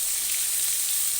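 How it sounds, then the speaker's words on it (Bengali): Pointed gourd and vegetables frying in a pan, a dense, continuous close sizzle with no pauses. "পটলটা একটু হালকা ভাজা হয়ে এসছে, এবার আমরা একে একে সব সবজিগুলোকে দিয়ে দেবো"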